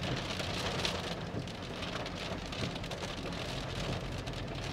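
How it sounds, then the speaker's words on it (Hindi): Steady, heavy rainfall pouring down continuously at Masjid al-Haram in Makkah, a dense wash of drops with a low rumbling undertone throughout. "बारिश माशाल्लाह यानी बहुत अच्छी खासी बारिश है"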